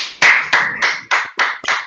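Bursts of clapping at a Toastmasters open house session, arriving in six distinct short waves across two seconds, close and fairly loud, sounding like a small group clapping in uneven rounds.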